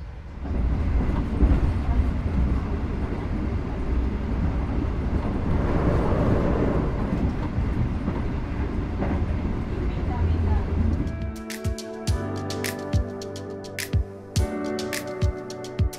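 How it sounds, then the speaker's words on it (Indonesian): Gaya Baru Malam Selatan passenger train departing Sragen station, heard from on board: a loud, steady rumble of the moving carriages, then sharp rhythmic clicks and clacks of wheels over rail joints toward the end. "kereta api Gaya Baru Malam Selatan meninggalkan stasiun Sragen sesuai dengan schedule pukul"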